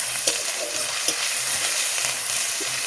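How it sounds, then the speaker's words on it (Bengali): Continuous crackling sizzle of garlic frying in oil, with a few spatula scrapes and stirs punctuating the hiss. "রসুনটা একটু আমি ভালোভাবে ভেজে নেব"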